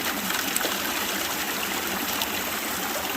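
Muddy, clay-laden water rushes steadily through a gold sluice, a dense, unbroken wash of flowing water with no pauses.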